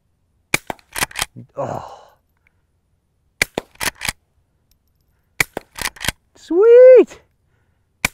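Suppressed Henry Frontier threaded lever-action rifle firing outdoors: three clusters of sharp, muted shots with brief mechanical clatter between, while voices react briefly between strings.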